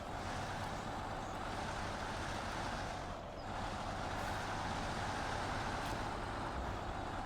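Kenworth truck driving in the video game SnowRunner, a steady loud engine and road rumble with broadband noise, briefly dipping near the middle before resuming at the same level.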